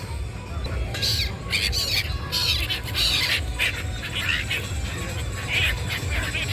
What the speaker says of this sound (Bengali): এই দিকটায় পাখির একদম ঝাঁক, ঝাঁকে ঝাঁকে